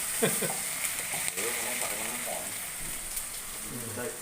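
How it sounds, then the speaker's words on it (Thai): Spicy frog sizzling as it's stir-fried in a pan, a steady close frying hiss with occasional scrapes and stirring clatter throughout. "ผัดให้หอมแบบ ผัดนานมากครับ"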